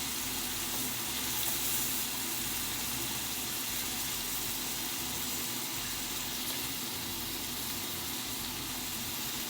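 Taco filling searing in a hot pan as excess liquid cooks off, a loud, unbroken hiss and sizzle with a low background rumble throughout.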